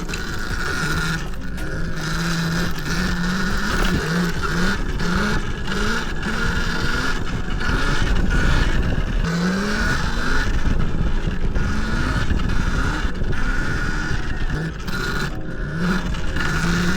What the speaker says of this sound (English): Hold on, can we hit a burnout on this dirt?